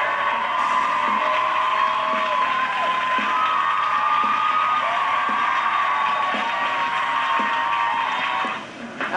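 Studio audience cheering and whooping steadily on a daytime talk show, a loud sustained crowd roar with shouts, tapering off right at the end.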